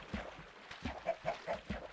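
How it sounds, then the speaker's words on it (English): Chicken clucking from the Minecraft video game, a run of short, evenly spaced clucks with a gentle rhythm, moderately faint and heard alone. "That's the sound of chicken, right?"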